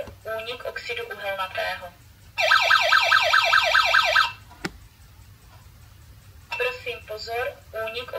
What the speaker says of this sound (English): And here is the alarm.